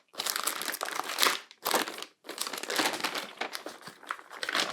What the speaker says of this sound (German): Dann nehme ich mal die Zielscheibe heraus. Die ist jetzt auch noch mal verpackt in dieser Folie.